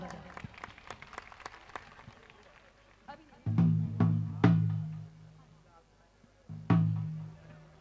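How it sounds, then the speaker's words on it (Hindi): Audience applause during a bhajan concert in Ramganj Mandi, coming in loud bursts under and between a singer's amplified speech over a steady musical drone. "अपने लिए जोरदार ताली बजाओ।"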